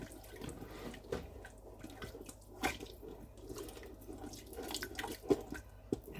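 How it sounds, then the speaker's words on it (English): Milk poured into a thick white sauce for a fish pie in a Ninja 15-in-1 cooker, a faint liquid trickle with small splashes and a few clinks, fairly quiet and close; no talk. "I'm going to end up putting in about a pint of milk."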